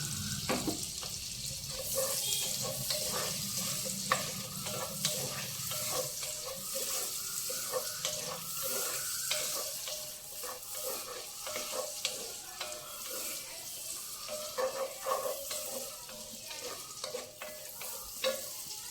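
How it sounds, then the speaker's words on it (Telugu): Two medium onions frying in a pan for a ridge gourd curry, a steady broad sizzle with repeated scraping stir clicks throughout, close and fairly loud, no talking. "ఉల్లిపాయ చక్కగా ఎర్రగా వేగిపోయింది"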